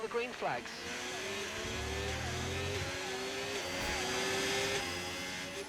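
Formula 1 cars in the F1 25 video game at the Barcelona Grand Prix, engines whining and rising as they return to racing speed, one car's note passing close over a steady engine drone.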